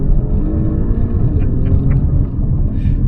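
An Alfa Romeo Giulia Quadrifoglio (QV, 2021) revs hard close by, a steady deep engine roar that holds loud and unbroken throughout.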